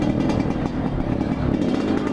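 A Yamaha RX-King or Kawasaki KLX motorcycle with a loud exhaust runs nearby, a steady, rough, throaty engine drone that holds constant throughout without clear revving peaks.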